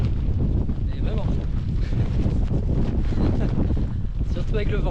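Strong wind buffets the microphone on the coast of the Crozon peninsula, a steady, loud roar with gusts that swell and ease throughout, while faint voices sound underneath.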